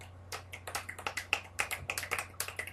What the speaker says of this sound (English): No, poetry clap.